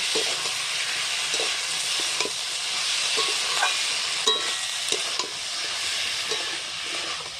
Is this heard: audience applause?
no